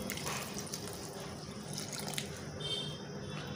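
Water is poured onto a potted money plant indoors: a quiet, steady trickle and splash with faint drips throughout, and no voices.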